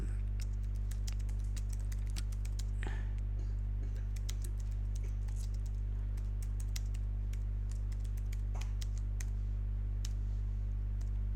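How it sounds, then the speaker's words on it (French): Typing a quiz question on a computer keyboard while building a Kahoot quiz: a steady run of light, quick key clicks with irregular rhythm, alone over a constant low electrical hum. "nous allons commencer tout simplement par taper la question que l'on souhaite poser à notre audience"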